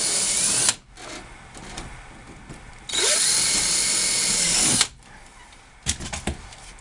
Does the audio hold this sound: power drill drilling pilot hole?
yes